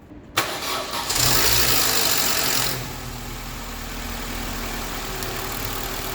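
A car engine cranks and catches after a jump from a portable jump starter, a sharp start surging to a loud rev before dropping back to a steady close idle.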